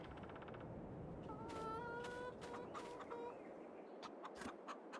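Game chickens in The Oaks cluck in short, repeated calls over a constant ambient wash, the clucks steady and fairly close, with a few sharp clicks near the end.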